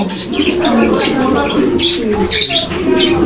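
A male pigeon coos close by in a fancy-pigeon loft, with repeated throaty, rolling calls running through the whole clip, mixed with other birds and someone speaking over it.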